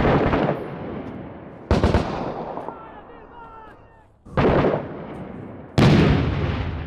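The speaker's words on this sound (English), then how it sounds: "Did we just get RPG'd?" Loud in-game explosions and heavy gunfire from an RPG strike in a shooter video game, with four sharp blasts each trailing into rumbling decay amid crackling shots.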